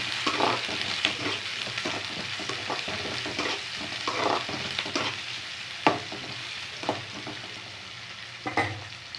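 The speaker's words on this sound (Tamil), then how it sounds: "நல்லா வதக்கி வச்சுக்கோங்க" Sliced onions sauté in a pan of hot oil for a Tamil karamani kulambu, a steady close sizzle with occasional scraping stirs and light clicks of a spoon against the pan.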